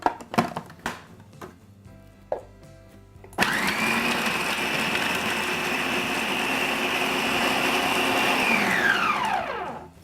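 Food processor whirring as it blends kale pesto with olive oil: a few short pulses and knocks, then a steady loud motor whine that runs for several seconds and winds down at the end.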